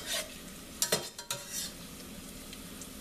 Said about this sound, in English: You want to cook the onions till they're translucent